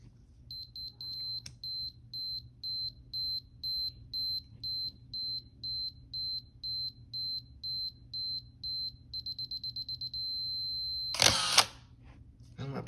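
A Minolta X-700 film camera in sound mode gives a steady run of evenly spaced, high, clear beeps. The beeps quicken into a fast burst, then stop with a short clatter near the end.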